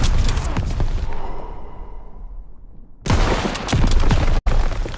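Loud gunfire and blasts from the World War II shooter Call of Duty WW2, a dense burst at the start that rings out into a fading tail, then a second heavy barrage that cuts off briefly before resuming.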